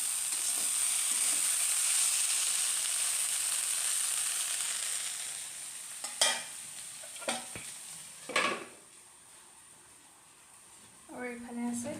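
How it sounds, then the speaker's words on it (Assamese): Fiddlehead ferns and potatoes fry in a home kitchen pan, a steady broad sizzle that fades after several seconds, broken by a few sharp stirring scrapes and clinks near the end. "ইয়াত বনাই আছোঁ ঢেকীয়া আৰু আলু ভাজি।"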